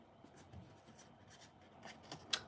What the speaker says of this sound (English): Let's see what it's like using scissors.